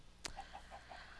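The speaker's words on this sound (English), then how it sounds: "Chickens." Minecraft chickens in the Magic Farm 2 modpack, a short sharp cluck followed by a few soft, faint clucks spaced evenly in quick succession, quiet and alone.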